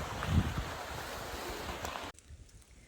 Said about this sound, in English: The bubbles might just be from this waterfall.